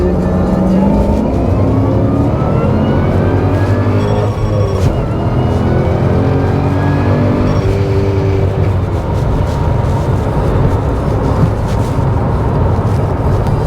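Supercharged FPV GS sedan accelerating hard around the Lakeside race track, a loud, sustained engine roar with rising revs and gear changes, steady and close throughout.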